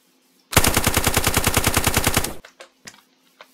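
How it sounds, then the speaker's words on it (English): An MK48 machine gun in the Minecraft Crafting Dead mod fires one sustained burst of about two seconds of rapid, evenly spaced loud shots, followed by a few quiet clicks alone. "And now we have the MK48 mod. Lower recoil than that one."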